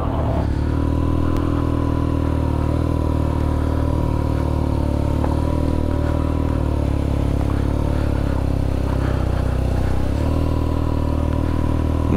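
Motorcycle with a boxer engine running close by, a loud steady droning rumble with slight shifts in pitch, continuous throughout.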